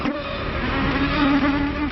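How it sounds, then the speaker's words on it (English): A mosquito buzzes steadily and close, a continuous high whine that wavers slightly in pitch, with no other sound. "the greatest monster of all time is a tiny mosquito."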